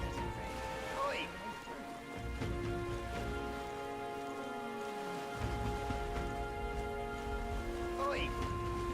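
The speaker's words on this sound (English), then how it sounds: "This bloody rain." Steady rainfall in the video game Metaphor: ReFantazio hissing throughout, with a low rumble and a voice speaking over it.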